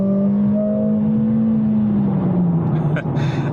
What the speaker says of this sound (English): And the car is sounding very loud right now.